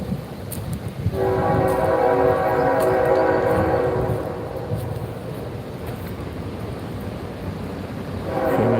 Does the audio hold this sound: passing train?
yes